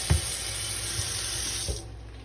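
Running water from a kitchen sink tap pours steadily over fonio grains being rinsed, with a few soft knocks and splashes before the flow cuts off near the end.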